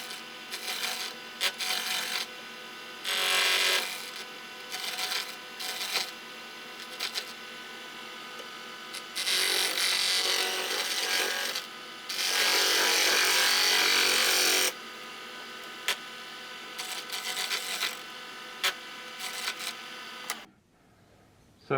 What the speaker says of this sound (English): this is called a spindle gouge that I'm using at the moment.